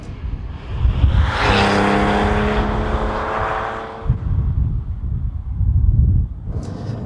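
Porsche 911 naturally aspirated engine, a 996 C4S or 997.2 C2, pulling hard through the mid-range from about 4,000 to 5,000 RPM, a loud, close rising engine note with clear harmonic tone that builds, then drops off into lower rumble.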